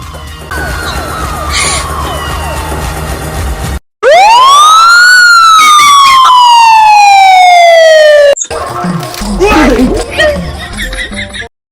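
Police sirens wail loudly in bursts, rising and falling sweeps in several separate segments with a brief gap between them, with some street noise underneath.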